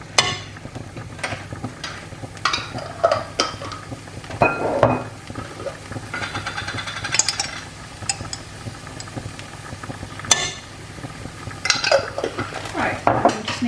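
Chilli and garlic cook in a pan with repeated metallic clinks and scrapes of a utensil against the pan and a faint sizzle beneath, close-up, with no talk.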